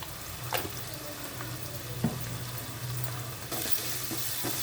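Turmeric and ginger-garlic paste frying in a pan while being stirred, a steady soft sizzle with scattered scraping clicks from a spoon and a brighter hiss near the end, close and without talk.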